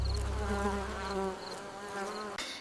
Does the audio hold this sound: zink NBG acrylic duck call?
no